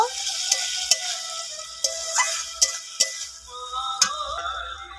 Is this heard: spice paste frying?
yes